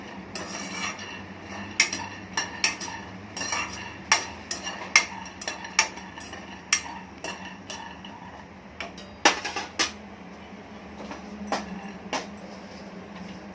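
Cashews and peanuts being dry-roasted in a pan, with a spatula giving repeated sharp metallic clinks and scrapes against the pan at an uneven pace, fairly close, over a soft background hum.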